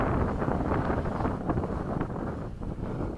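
Strong high-mountain wind buffeting the microphone during a Mavic Pro drone flight, a loud, continuous roaring rumble that surges and dips throughout with no voices.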